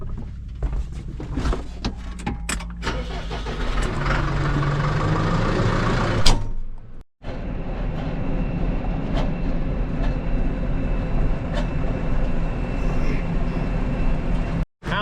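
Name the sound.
tractor backing gravity wagons into shop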